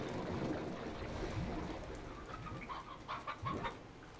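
Chickens clucking in the video game Slime Rancher, soft repeated clucks rising over a steady background hum, moderately close and without speech.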